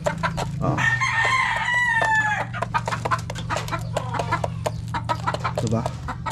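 Gamefowl chickens, including Boston Hatch and Melsim Black roosters, crow and cluck nearby over a steady low hum, with one drawn-out crow followed by scattered clucks and pecking.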